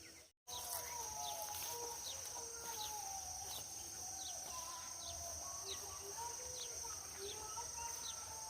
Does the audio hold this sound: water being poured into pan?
no